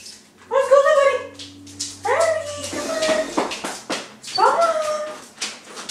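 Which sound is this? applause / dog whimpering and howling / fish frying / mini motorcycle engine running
dog whimpering and howling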